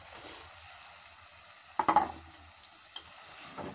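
Shing fish (stinging catfish) drop into a frying pan with a short burst of sizzling and spattering, then a quieter simmering hiss with a soft tick.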